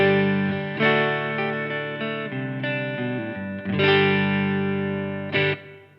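Baum Guitars Celesta electric guitar, played clean through a Blackstar TV10A amp and a Torpedo Captor X, rings out shimmering strummed chords and picked notes with sustained decay. No voices.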